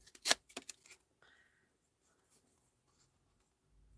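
Card paper scraps are torn together by hand for card toppers: a quick run of crisp ripping bursts close up in the first second, followed by faint rustles and near silence.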